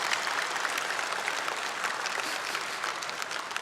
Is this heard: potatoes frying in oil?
no